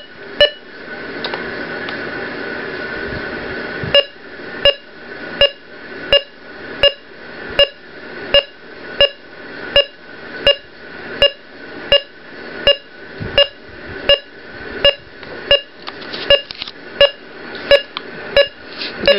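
An Ohmeda Trustat 3500 pulse oximeter gives a steady run of short, bright beeps about once per second, close and alone, with a continuous tone or hum under the first few seconds; the beep pitch shifts slightly with oxygen saturation.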